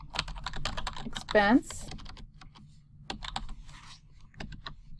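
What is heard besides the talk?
typing text on a computer keyboard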